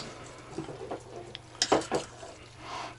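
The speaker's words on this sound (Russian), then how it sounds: "Все, смешаем. Вон двумя вилками." Bolognese sauce being mixed with two forks in a pan or dish, a few soft clinks and wet stirring scrapes, with one louder clattering burst in the middle, close and alone.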